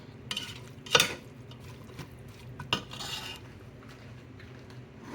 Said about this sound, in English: Your Worcestershire sauce, red wine vinegar, and the bourbon goes in there, and you'll stir that up